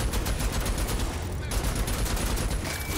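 Rapid gunfire from a multi-barrelled weapon in the video game Rage 2, a dense continuous barrage of shots filling the whole stretch at steady loudness, with faint voice traces underneath.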